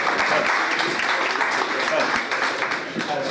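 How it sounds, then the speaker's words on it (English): Audience applause at a boxing promotion event, steady clapping mixed with crowd noise and some voices, fairly loud throughout. "Give it, Linzi, a round of applause, guys."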